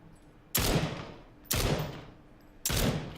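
Three loud, sharp gunshots from a first-person shooter game, evenly spaced about a second apart. Each one has a crisp crack and a decaying tail, with near silence in between.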